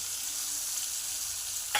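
Black cumin seeds and chopped green chilies frying in hot oil, a faint, even crackling sizzle that stays steady, ending with a brief sharper clatter.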